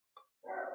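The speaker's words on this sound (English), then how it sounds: "excuse my dog freaking out" A dog gives two short, sharp barks in quick succession, the second louder and longer, heard close by indoors.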